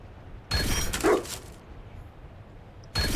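A dog in the video game Dragon Age Inquisition barks in a short burst of loud, close woofs, then falls quiet before another bark starts at the end.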